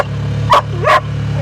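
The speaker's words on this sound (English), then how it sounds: "You guys can hear some barking dogs." Two dogs' barks ring out in quick succession at moderate distance on a rural property with a gun range, over a steady low engine hum.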